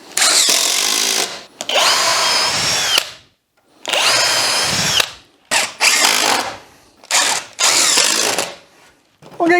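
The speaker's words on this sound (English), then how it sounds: "Let's get some screws in this." A power drill drives screws into a simple garden bench built from scrap 4x2 timber offcuts, running in several loud close bursts of whirring with short pauses between them as each screw goes in.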